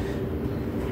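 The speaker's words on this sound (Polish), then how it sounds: "Słyszycie pociąg w tle? Znowu jedzie." A train rolls past in the background near a scrapyard, giving a low, steady rumble that holds evenly throughout without any distinct horn or clatter.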